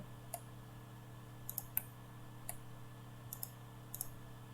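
Sharp, faint mouse clicks come in small clusters, including quick double clicks, over a low steady hum.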